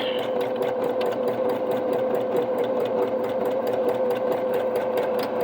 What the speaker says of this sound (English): I am back stitching just to make sure everything stays where I want it